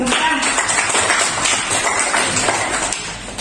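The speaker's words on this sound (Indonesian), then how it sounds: "kita berikan tepuk tangan untuk kelompoknya Reva sendiri" A group of students applauds one of their class groups, dense continuous clapping at steady loudness throughout, with faint voices mixed underneath.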